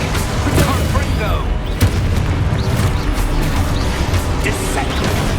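Confringo spell explosion in the video game Hogwarts Legacy: a loud, dense roar of fiery blasts and rumbling booms fills the whole stretch, with sharper bangs standing out near the beginning and middle.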